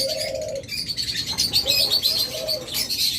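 Lovebirds chirping in a steady stream of high, shrill tweets and squeaks, close by and fairly loud, with no voices.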